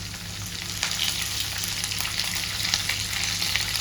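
Onions frying in a pan for Kerala egg roast, a steady close sizzle with faint crackles throughout and no talk.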